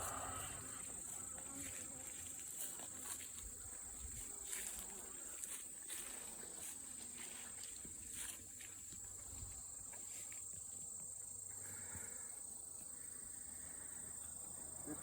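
Honeybees hum in an open beehive while frames are inspected, a steady close buzzing drone with occasional soft handling knocks and no clear talk.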